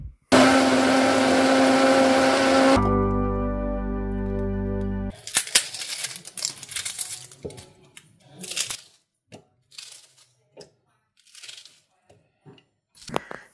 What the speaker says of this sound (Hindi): ब्लेंडर में डाल के आपको इसकी प्यूरी बना लेनी है।